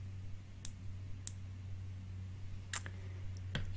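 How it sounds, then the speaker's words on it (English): Small cuticle scissors snip eyebrow hair in a quiet close-up grooming session, a handful of crisp, isolated clicks spaced irregularly over a low steady hum. "I'll take some very small, they're actually cuticle scissors"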